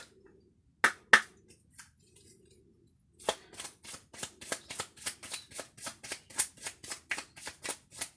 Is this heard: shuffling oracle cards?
yes